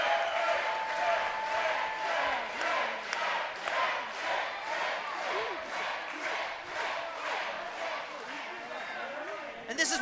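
A packed crowd at a SoCal Pro Wrestling show in Vista, California roars and chants in a steady rhythmic pulse, loud and sustained, with a commentator talking over it.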